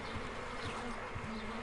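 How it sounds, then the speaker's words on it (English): A swarm of bees in the Sherlock Holmes: Crime and Punishment video game hums in a constant, dense drone, steady and moderately quiet, with no one talking. "why is there so many bees in here?"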